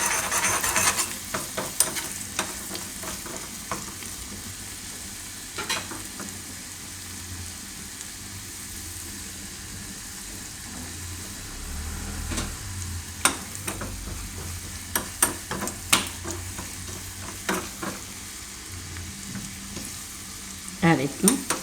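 Garlic frying in butter for a flower soup, a steady sizzle with occasional stirring clatters and scrapes of a utensil in the pan, close and continuous with no talking.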